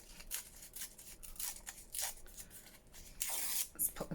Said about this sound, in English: So just rip one side.